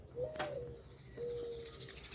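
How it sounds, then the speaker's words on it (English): Pigeons or doves cooing outdoors, two soft drawn-out coos a second apart, fairly close and quiet against a calm background. "Tater likes to watch all the birds"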